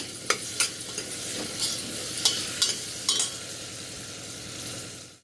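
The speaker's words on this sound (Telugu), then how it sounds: "ఈ మిరపకాయలు ఇవన్నీ కొంచెం ఫ్రై కానివ్వండి." Chillies and onions fry in a pan for pulao, with a close, steady sizzle and a series of rhythmic stirring scrapes.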